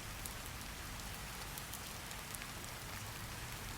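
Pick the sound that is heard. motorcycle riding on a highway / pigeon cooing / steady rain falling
steady rain falling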